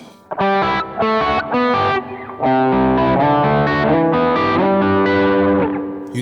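Electric guitar played through a Jet Pedals Revelation reverb pedal set to 100 ms pre-delay, loud distorted chords and notes with a washy tail that swells and sustains behind each strum, alone without talk.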